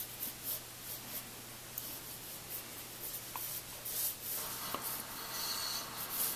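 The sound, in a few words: HB pencil drawing on paper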